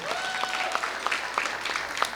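Audience applause, steady close-up clapping from a small crowd for a couple of seconds.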